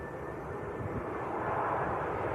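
An EasyJet airliner arriving from Sofia lands at Manchester Airport, giving a brief, steady engine roar at moderate distance that swells slightly toward the end, with no talk.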